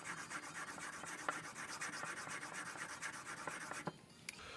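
A chisel is sharpened on a whetstone with steady back-and-forth rubbing strokes, a close, even rasping rhythm that continues almost without a break and eases off near the end.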